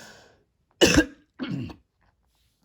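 Two sharp, close coughs a moment apart, then near silence.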